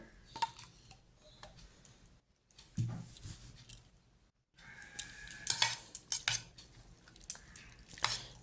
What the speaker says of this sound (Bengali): এবার মেয়নিস দিয়ে দিলাম মেয়নিসটা দিয়ে ভালো করে মাখাবো